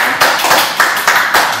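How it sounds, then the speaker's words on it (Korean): A short burst of audience applause at a talk, a dense steady patter of many hands clapping, fairly loud and close, lasting under two seconds with no voices. "저희 박수 한번 드려주시죠."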